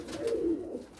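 A pure Indian pigeon from a breeder pair gives a short, soft, low coo, close and alone.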